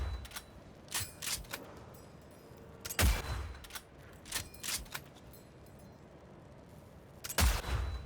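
Sharp gunshots crack out in scattered bursts during a Cyberpunk 2077 firefight, several close loud reports separated by short pauses, with a heavy blast near the middle and another toward the end.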